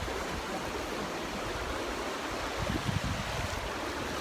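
A river in Ecuador flows nearby as a steady, rushing water hiss, with brief low thumps and splashing toward the end.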